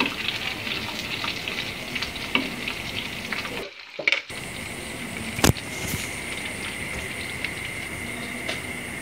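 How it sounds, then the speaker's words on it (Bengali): Fish sizzle and fry in hot oil in a home kitchen, a steady crackling hiss broken by a short quiet gap and a sharp clink as the pieces are turned. "তেলটা গরম হলে আমি এখন মাছগুলো দিয়ে দিচ্ছি। মাছগুলো এখন উল্টিয়ে আমি ভেজে নিচ্ছি।"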